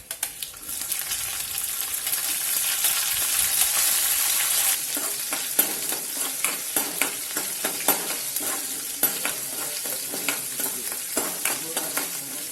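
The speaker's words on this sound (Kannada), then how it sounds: "ಶೇಂಗಾ ಹುರಿತಾವ್ರಿ ಚಂದಾಗ. ಇವಾಗ ನಾನು ಮೆಣಸಿನ್ಕಾಯಿ ಹಾಕೊಂತೀನಿ" Peanuts and chillies fry in a pan, first as a loud, dense sizzle and then with regular scraping stir strokes that give a rhythmic clatter over the crackle. No one speaks.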